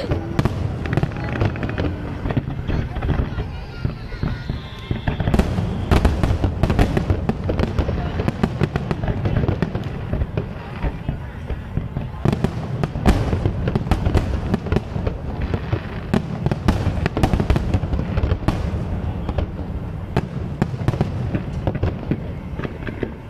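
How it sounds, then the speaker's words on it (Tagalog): Rapid, continuous crackling and popping of fireworks going off nearby for a long stretch in the Netherlands, with people talking underneath. "Gulat kayo nung yung paputok umabot sa bahay."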